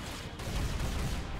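Gunfire crackles in the action game Final Fantasy VII Remake, a dense, continuous burst of shots that fills the whole stretch at moderate loudness.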